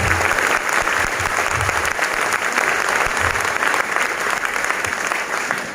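An indoor audience at a motivational training seminar claps steadily, a dense continuous round of applause filling the whole stretch without pause.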